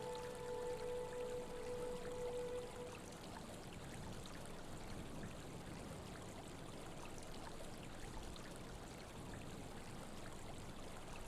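River water flowing steadily in the Myst IV: Revelations game world, a constant broadband rush with a faint tonal hum fading out early, no talk over it.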